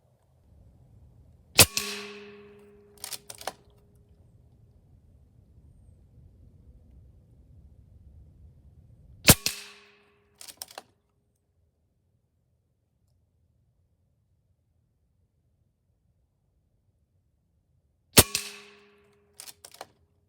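Three sharp shots from an Air Venturi Avenger air rifle at about 45 foot-pounds, each followed by a ringing clang as the pellet strikes a one-foot square steel plate 50 yards downrange, spaced several seconds apart with quiet between.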